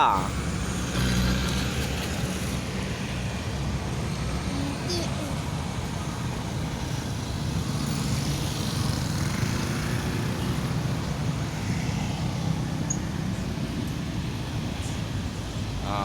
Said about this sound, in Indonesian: Ini bus transmusi dari arah terminal KM12 menuju kota.